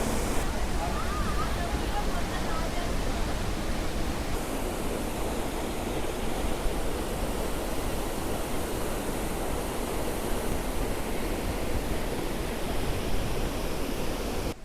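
The Athirapally waterfall pours down nearby with a dense, unbroken roar of rushing water that stays loud and constant.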